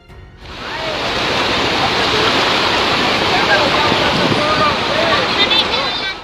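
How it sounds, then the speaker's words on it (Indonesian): Flash floodwater rushing through Bima city in West Nusa Tenggara, a loud, steady roaring torrent heard up close that continues without a break and drowns out any other sound. "Banjir bandang melanda Kota Bima."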